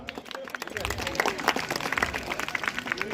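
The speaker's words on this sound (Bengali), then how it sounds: "একটা জোরে হাততালি হোক" Audience applause at a ceremony marking the India Meteorological Department's 150th anniversary, with dense clapping from a crowd and voices talking through it.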